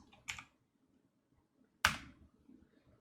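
Keys on a computer keyboard are struck as two isolated, sharp clicks more than a second apart, close and fairly crisp against a low background murmur.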